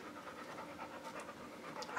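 A dog named Petey pants rapidly and rhythmically, close and fairly quiet, with soft breathy huffs continuing throughout.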